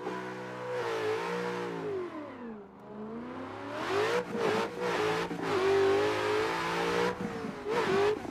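A BMW race car engine in a sim racing game revs, drops off, then climbs hard through the gears with sharp upshift breaks, loud and close.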